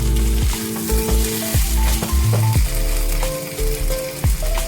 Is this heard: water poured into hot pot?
yes